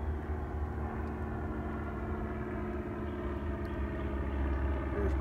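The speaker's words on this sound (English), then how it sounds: "there's my plane." An airplane flying overhead at a cold overnight bushcraft camp in North Texas: a faint, distant, steady engine drone that swells slightly toward the end, heard alone without talk.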